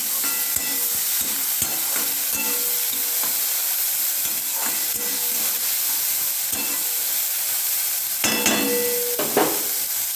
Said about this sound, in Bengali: অল্প আঁচে ঢেকে ঢেকে ভাজবো।